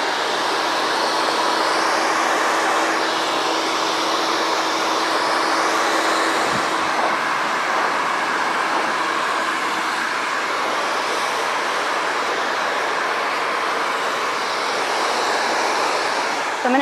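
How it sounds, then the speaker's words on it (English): A hair blow dryer runs continuously at a barber shop, a steady loud whooshing roar with a faint hum that dips briefly midway before carrying on unchanged to the end. "So that's how I'm gonna be blow drying it as well."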